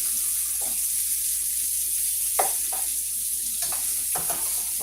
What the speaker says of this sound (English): Sausage is cooking good.